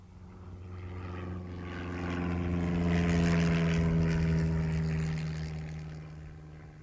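A propeller aircraft engine drones steadily before boarding in Stanley, Falklands, swelling louder mid-way and then easing off slightly, with a low, even hum and no talk.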